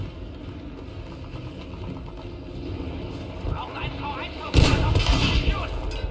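A bomb blast in the Battlefield 5 video game goes off as a sudden loud broadband boom late on, following steady rumbling battle noise, with players talking over it.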